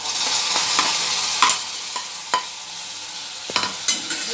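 Bitter gourd pieces stir-frying with onion in a pan, a steady sizzle broken by sharp scraping strokes of a spatula every second or so, close and fairly quiet with no voices.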